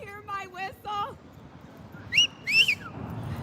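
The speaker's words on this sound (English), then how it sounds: "Hear my whistle?" A whistle sounds in a few short, wavering tonal bursts, then two higher, shriller blasts, over a low background hum.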